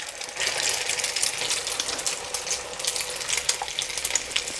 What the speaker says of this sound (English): Make sure the egg is coated really nicely, and then I'm going to transfer them into the pan.